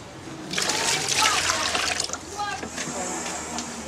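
Water is poured into homemade recycled paper pulp, a short splashing trickle that swells and then fades, with a voice talking over it.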